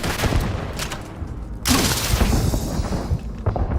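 Rapid gunfire bursts crackle in the Starfield video game, with a sharp cluster of shots and a heavier blast midway through.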